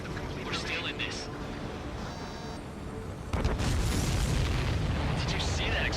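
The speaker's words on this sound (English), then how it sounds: "Did you see that explosion?" A heavy explosion in Ace Combat 7 bursts partway through with a broad, loud boom that gives way to a sustained roaring rumble, set against a busy background of combat noise and voices.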